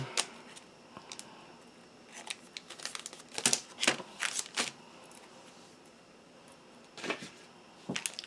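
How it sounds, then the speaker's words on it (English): Several short crisp snips and crinkles of paper being cut, close up, irregularly spaced with quiet gaps between them. "And I usually like to cut it with my scissors rather than rip it."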